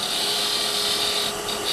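Hunter Hercules turning tool making a shear scraping cut on spinning wood on a lathe, a steady close hiss and whir under a constant motor drone, without talk.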